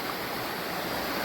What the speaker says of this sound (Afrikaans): Die water loop lekker.